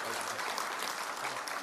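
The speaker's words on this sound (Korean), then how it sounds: "중간 박수 한번 쳐주세요" Brief burst of audience clapping during an economics lecture at a CEO breakfast seminar, a dense continuous patter of many hands at moderate level.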